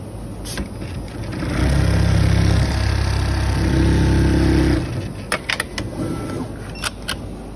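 A sewing machine stitches a back pocket, its motor giving a steady low whir for about three seconds before a few light clicks and handling sounds.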